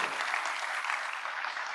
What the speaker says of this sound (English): Please applaud for Bharat Mata,